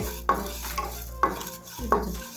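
Lentils being stirred and fried in a little oil in a pan, three distinct scraping stirs of a spoon against the pan over a soft steady sizzle, close and quiet.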